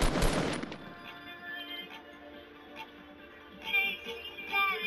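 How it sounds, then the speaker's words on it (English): A loud burst of gunshots opens a round of Fortnite, sharp and close, then fades into quieter ambient game sounds with a few faint later hits. "I just shot somebody."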